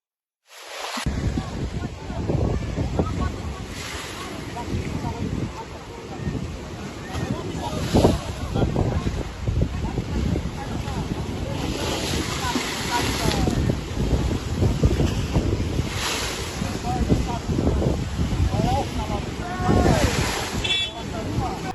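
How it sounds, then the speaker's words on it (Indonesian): Sea waves surge and crash on the Leihitu coast in Central Maluku, Indonesia, during the high-wave season, with waves reaching the roadside. A continuous loud roar with rhythmic swells and heavy wind buffeting the microphone, and no voices. "gelombang ini menghantam sampai ke badan jalan"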